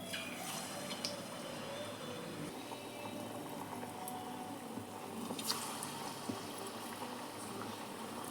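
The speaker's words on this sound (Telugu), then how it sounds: "చంద్రకాంతలాగా కట్ చేసుకున్న వాటిని నేతిలో వేగించుకోవాలి" Chandrakantalu sweets fry in ghee with a steady soft bubbling sizzle and scattered small pops, quiet and continuous throughout.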